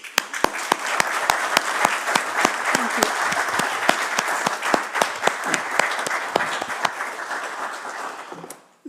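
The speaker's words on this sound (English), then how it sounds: "And we do a little applause." Audience applause at a PhD defence ceremony, steady clapping from a room of people lasting about eight seconds before fading, with a brief spoken thanks near the end.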